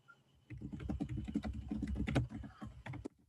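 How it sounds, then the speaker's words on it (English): Fast, continuous typing on a computer keyboard as an email address is entered, dense clattering keystrokes for about two and a half seconds after a quiet start, close and clear with no talking. "I'll just type the email in."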